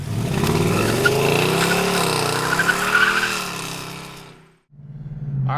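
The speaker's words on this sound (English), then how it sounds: "this car's always had a great sound to it" A 2018 Ford Mustang GT without active exhaust accelerates hard, its engine and exhaust rising in pitch through the revs with a loud, close roar, then briefly cutting out before resuming.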